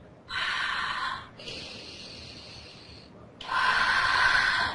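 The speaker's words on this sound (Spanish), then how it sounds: "vamos a que la respiración se escuche" Three loud, breathy exhalations during a tai chi exercise, close to the ear, each lasting about a second, separated by quieter pauses.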